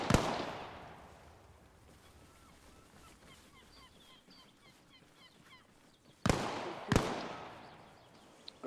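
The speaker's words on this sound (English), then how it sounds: "2 or 3 shots in that direction" Gunshots fired during an Arma Reforger training exercise: a sharp impulsive crack at the very start, then two loud, close shots a little under a second apart near the end, with a quieter noisy stretch in between.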